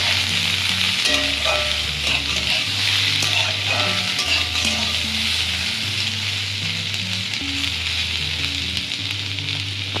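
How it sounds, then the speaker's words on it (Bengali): Boiled potatoes fry in a pan with a steady sizzle and crackle while being stirred, continuous and close, with a rhythmic low tone pattern running underneath. "তারপর আমরা আলুগুলোকে ভালো করে ফ্রাই করে নেব।"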